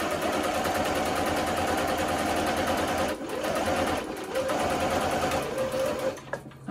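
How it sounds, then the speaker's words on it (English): A sewing machine stitches the collar of a men's dress shirt, a close, steady whirring run that briefly stops and restarts near the end, with no talking. "And then you're gonna make the rest of the pivot and continue sewing."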